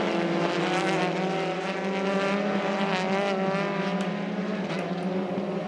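TCR touring race cars, a Peugeot and a Cupra among them, scream past at Bathurst, their engine notes loud and sustained with a steady, rising and falling roar throughout.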